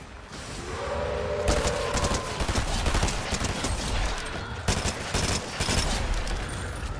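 Rapid gunfire from a weapon in Fortnite, a dense continuous barrage of shots with a short pause partway through, loud and close, with no speech.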